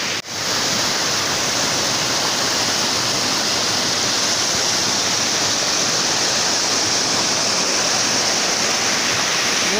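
A river in full flow after water has returned to it, a steady, loud broadband rush with no let-up, close by and with no voices over it.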